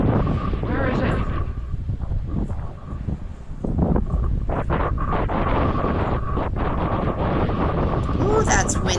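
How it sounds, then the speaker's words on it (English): Strong wind roars steadily across the microphone on a cool, windy beach trail, a constant broadband rush with gusty buffeting throughout and no pauses. "Ooh, that's windy."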